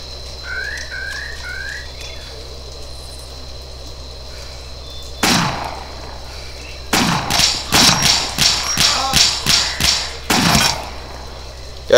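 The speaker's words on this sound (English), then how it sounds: "Got gunshots like crazy." A string of sharp, loud gunshot bangs fires in a quick irregular burst in the game DayZ, following a few faint bird-like chirps and a single early shot.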